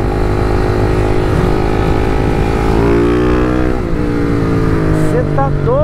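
A Honda Fan 160 motorcycle with a tuned engine runs loud and close, holding a steady, buzzy drone that rises and falls with revs, with rising pitch sweeps near the end.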